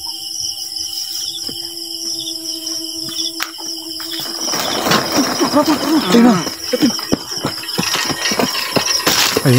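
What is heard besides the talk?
motorcycle engine starting and running after being pushed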